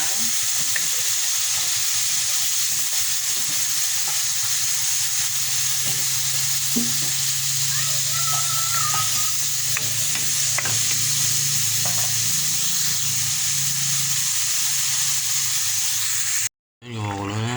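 Squash and shrimp paste being stirred and sautéed in a pan, a steady close sizzle with scraping stir strokes throughout, no talking, cut off abruptly near the end.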